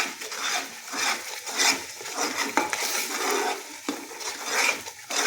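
Food with red masala frying in a pan in an institutional kitchen, a close, continuous sizzle mixed with scraping and stirring strokes of a utensil against the pan, no talking.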